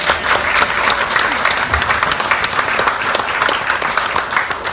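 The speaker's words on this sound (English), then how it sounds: "So a round of applause for that." A dense, loud audience applause fills a live political comedy show, with many hands clapping at once in a steady, unbroken wash of sound that keeps going evenly and with no voices over it.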